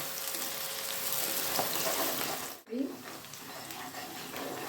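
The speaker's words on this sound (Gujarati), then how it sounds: "એને આવી રીતે બરાબર સાતરી લઈએ ફૂલ તાપે સાતરવાની એને" Chopped onions sauté on full flame in a pan for pav bhaji, giving a steady close sizzle and fry with a brief dip in the middle, then a short stir scrape.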